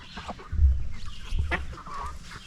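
Chickens clucking in a farmyard during a small family's chicken butchering day, several soft clucks and low calls close by over steady outdoor background noise, with no talk.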